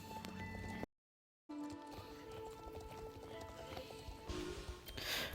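A horse in a fantasy video game gives steady clip-clop hoofbeats against a busy game soundtrack, broken by a brief dropout of silence near the start, with no voices.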